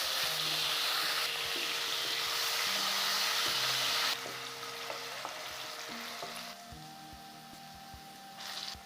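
Potatoes fry in hot oil in a pan, giving off a loud, steady sizzle that drops partway through and continues more quietly under faint background tones.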